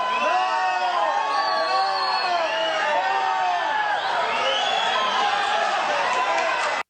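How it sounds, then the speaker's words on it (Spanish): A large outdoor crowd at a victims' tribute event in Colombia jeers the Interior Minister, with many rising and falling shouting voices and whoops blending into a loud, continuous roar. "El evento Colombia abraza a las víctimas se convirtió en el escenario de abucheos contra el ministro del Interior de Colombia, Juan Fernando Cristo."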